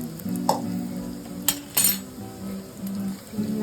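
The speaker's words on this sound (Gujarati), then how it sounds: "નાખીને હલાવીને મસાલાને ગળવા દેવાનો." Turmeric, salt and spices sizzle in hot oil in a pan for making raita chillies, with a few sharp clinks and scrapes of a spoon against the pan as it is stirred; close and fairly steady.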